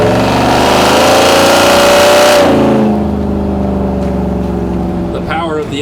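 A 1972 Chevy truck with a supercharged LT4 engine on a Roadster Shop RS4 4x4 chassis pulls away, a loud, close engine note rising steadily then easing off as the revs settle, with a voice faintly underneath.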